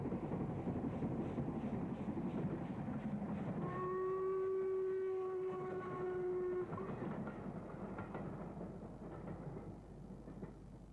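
A Black 5 steam locomotive on a short local train rumbles past in the UK with a long, steady whistle in the middle, the rolling noise fading slightly toward the end.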